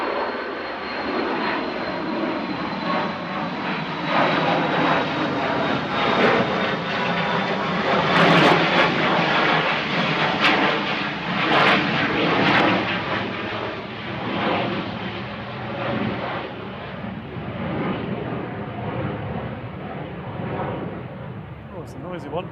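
Aircraft G-CLYL departs Manchester Airport, a loud, broad engine roar that swells and slowly fades at a distance, with voices talking over it.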